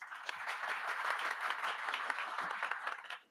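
A crowd's applause, a dense patter of many hands clapping at moderate distance, fading out at the end.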